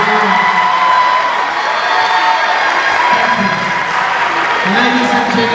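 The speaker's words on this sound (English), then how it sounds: "Let's give one more round of applause." Sustained audience applause with cheering and whoops at the Miss Gay Western Cape 2015 pageant, a loud, full crowd sound with voices rising through it.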